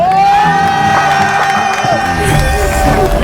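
A crowd cheers and shouts for the winner of a food-eating challenge, with loud whoops and cries carrying on without a break over a sustained tone.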